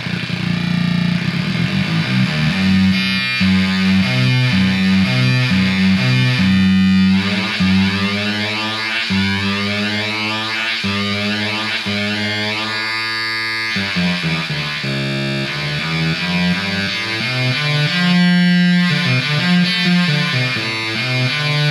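An Atari Punk Console guitar pedal with its echo switched on plays stepped, buzzy square-wave tones with a distorted, chiptune character. The pitches hop and repeat in pulsing patterns, loud and continuous throughout, with no voices.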